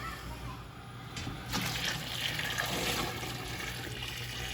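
Water poured into a pot of heating water for home-brewed Munich helles beer, a steady rushing splash that swells midway and continues at moderate volume, no voices.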